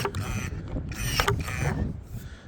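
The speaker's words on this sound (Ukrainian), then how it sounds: "Де як воно класно ріжеться, аж понравилось." Pruning shears cut through a pipe, making close creaking crunches that come in a few short strained bursts, one after another.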